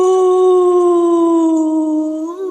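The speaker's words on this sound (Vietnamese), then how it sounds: "con chó" A dog gives one long, loud, close howl that holds a steady pitch before wavering and rising slightly at the end, with no other sounds around it.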